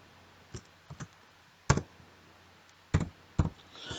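Sparse, close clicks of a computer mouse during spreadsheet work in Excel 2019, single and double taps separated by short pauses in a quiet room.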